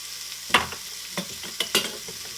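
Garlic going into a pan with shrimp for shrimp Alfredo, a low sizzle broken by several sharp scraping and clattering utensil hits, close and moderately quiet.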